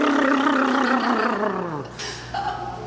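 Buzzing lips for playing a sousaphone, a loud rough buzzing tone that slides downward in pitch over about two seconds, then gives way to a quieter, higher buzz near the end.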